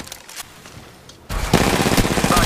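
Automatic weapon fire in the mobile battle royale game Apex Legends Mobile erupts after a quiet second, a fast sustained burst of loud, closely spaced shots running to the end.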